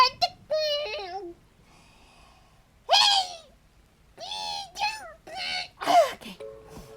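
Bird calls in the video game Terraria, several short warbling chirps and hoots in separate bursts, mixed with excited exclamations from a player talking over the game audio.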